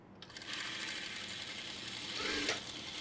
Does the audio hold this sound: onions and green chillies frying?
no